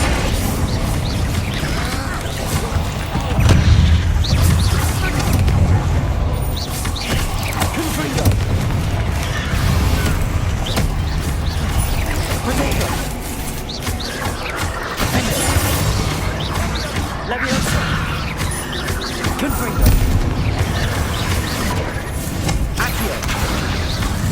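Spell blasts and explosions in combat in Hogwarts Legacy, a steady stream of booms, cracks and mechanical clatter layered with magical effects, under a voice casting spells throughout.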